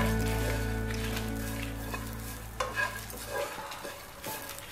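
Coconut masala roasting in a pan for a cluster bean stir-fry, heard as a steady dry sizzle with a low hum underneath, then a few louder stirring scrapes toward the end.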